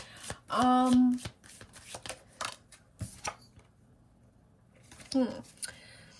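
Tarot cards are riffled and shuffled by hand in quick, crisp bursts of flicking and tapping, fairly close and soft, with a brief pause and a muted voice sound in the middle.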